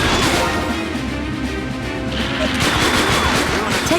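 Gunfire from the Police 24/7 light gun shooter game on PlayStation 2 comes as dense, continuous shots and crashes over game music, loud and unbroken across the whole stretch.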